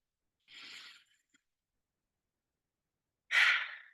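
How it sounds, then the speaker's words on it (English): A slow, breathy exhale through the mouth during a calming breathing exercise, a soft rush of air heard alone and close, followed by silence and then a second, louder breath. "And then exhale slowly through your mouth, releasing any tension or stress you may be holding on to."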